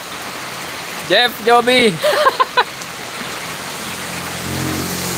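Rain falls steadily on a mountain road at a roadside stop, a constant wash of hiss under a few brief spoken words from a nearby voice.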